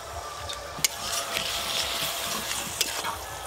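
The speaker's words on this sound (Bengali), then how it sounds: "টমেটো, কাঁচা লঙ্কা কুচি, অল্প একটু জল দিয়ে আর একটু ভালো করে কষবো," Spices sautéing in a pan with chopped tomato, green chilli and a splash of water for a Bengali egg curry, a soft continuous sizzle and bubbling with occasional stirring scrapes and light clinks of a spatula.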